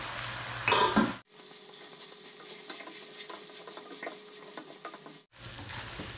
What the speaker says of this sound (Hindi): आलू शामिल करके हम इसको 3-4 मिनट फ्राई करेंगे